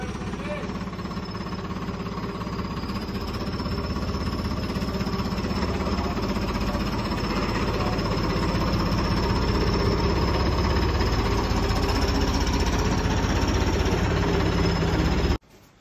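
A loaded tractor's engine runs close by as it reverses, a loud, steady knocking chug with a constant drone that cuts off abruptly at the end; a voice is faintly present.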